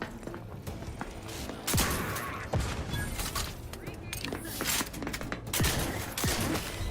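Gunfire in the video game Outer Worlds 2: scattered, punchy shots and impacts land irregularly over a steady bed of combat noise, moderately loud.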